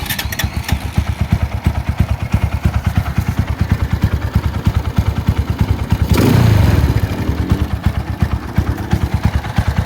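Motorcycle engine idling with a manual cam chain tensioner fitted, a loud, steady, rapid putter with fine ticking clatter, briefly swelling in a throaty rev around the middle.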